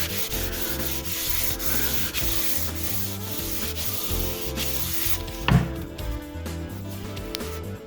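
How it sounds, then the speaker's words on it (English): Cloth rubbed back and forth over a wooden model airplane while wiping on naphtha, giving a close, continuous scrubbing sound with a steady rhythm and one brief louder knock near the end. "let's wipe a little naphtha on this thing and see how it's going to look"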